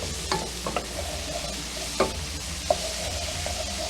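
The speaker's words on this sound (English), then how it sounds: "add a little bit, stir it up" A spoon stirs flour into butter, oil and onions sizzling in a pot for cream of broccoli soup, with a steady frying hiss broken by several sharp scrapes and clinks against the pot.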